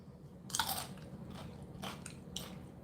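Crunchy bites into a fresh Aji Delight pepper, a mild pepper with light corking on its skin: a loud crisp crunch near the start, then two more bites and chewing, close up with no talking.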